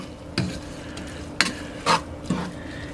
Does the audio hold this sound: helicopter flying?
no